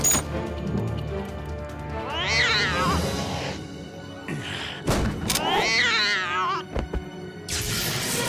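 An animated cat meows and yowls in two drawn-out wavering cries, loud and close, mixed with thuds and a sharp crash between them.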